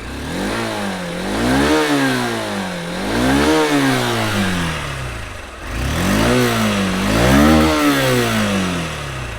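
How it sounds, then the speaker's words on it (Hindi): A 2021 Honda Unicorn 160 motorcycle engine revs repeatedly, rising and falling in several loud throttle blips with a throaty exhaust note, close by and continuous. "इसका एग्जॉस्ट नोट सुन लेते हैं"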